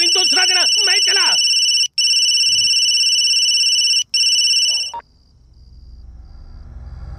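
A phone ringtone plays loud and close, a bright melodic run followed by sustained electronic tones broken by two brief gaps, then cuts off into quiet room noise.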